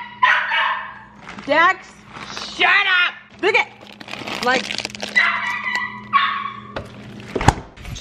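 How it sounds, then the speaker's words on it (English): A dog barks and yips repeatedly at close range in a home during a toddler's birthday evening, the barks broken up and mixed with someone talking over it. "I know you guys are getting sick of hearing that dog."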